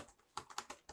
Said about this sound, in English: Let me jot down that in my keyboard, the computer.